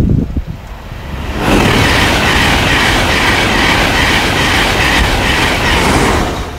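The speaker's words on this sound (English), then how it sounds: "here's an 82 set now, coming in from Edinburgh" A Class 82 set train coming in from Edinburgh passes close by at speed, rising quickly to a loud, steady roar of wheels and carriages that holds for several seconds before easing slightly, with wind in the background.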